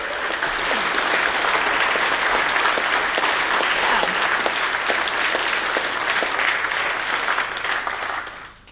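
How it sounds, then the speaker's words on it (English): Sustained audience applause fills a conference hall after a security talk at CrikeyCon 2021, a dense steady wash of many hands clapping at full strength for about eight seconds before quickly fading out. "Round of applause."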